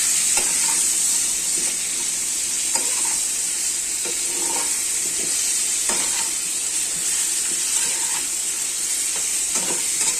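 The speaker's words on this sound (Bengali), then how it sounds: "দিয়ে আলুগুলোকে লাল লাল করে ভাজবো।" Potato pieces with salt, turmeric and chilli powder frying in hot oil for a mutton curry, a loud continuous hiss and sizzle with regular stirring scrapes and clicks throughout, with no voices.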